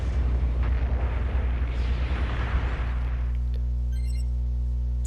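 Artillery explosion in the video game Gundam Battle Operation 2: a heavy rumbling blast that swells and rolls for a few seconds, then fades into a steady low game hum with small electronic tones.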